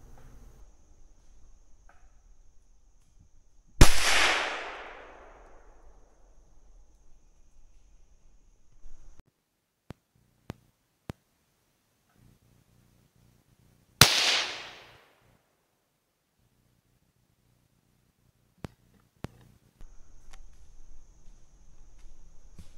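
Two sharp, loud cracks from a Marlin .22 Magnum bolt-action rifle fired at a squirrel outdoors, about ten seconds apart, each followed by a brief fading echo, with faint clicks and quiet woodland ambience between.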